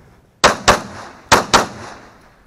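A Glock pistol fires four sharp, loud shots at close range, spaced in two quick pairs, each crack trailing off into a short echo.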